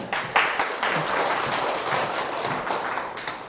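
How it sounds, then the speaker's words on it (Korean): A lecture audience claps together for a volunteer returning to their seat, a dense burst of applause, close and steady for a few seconds before tapering slightly. "박수"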